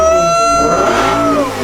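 A BMW E60 M5 with a V10 engine and a misfire revs up toward full rev, a loud close howl with a rising, then steady pitch over a short burst.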